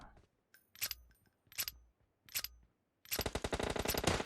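Gunfire in the mobile battle royale game PUBG Mobile: three separate sharp single shots spaced apart, then a rapid sustained burst of automatic fire, crisp and fairly close.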